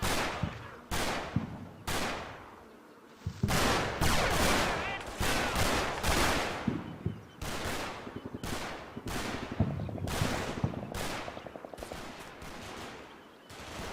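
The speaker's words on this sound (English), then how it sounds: "I don't have a lot to say about that mortar round other than bravo" Mortar rounds and gunfire in the wargame Combat Mission: Battle for Normandy, set around Ecausseville, produce a long sequence of sharp, heavy blasts, each ringing out with a decaying tail, repeating irregularly amid continuous battle noise.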